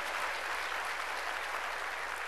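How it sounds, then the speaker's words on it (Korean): A church congregation claps together in worship, a soft, even, sustained patter of many hands heard at a slight distance, with no speech over it. "박수로 하나님께 영광을 돌려야죠."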